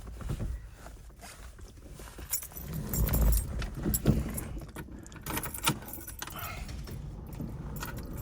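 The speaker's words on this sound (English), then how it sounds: "I guess I got the key in my pocket here." Car keys jangling as they are pulled from a pocket beside a 1969 Ford Mustang Mach 1, with light metallic clinks and rattles at close range, fairly quiet with some handling noise.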